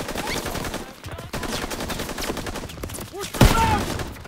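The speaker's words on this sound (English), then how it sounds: "I'm taking fire!" Machine gun fire from a Call of Duty World War 2 Battle of the Bulge battle rattles on in steady fast bursts throughout, with one louder crack near the end and a voice speaking briefly over it.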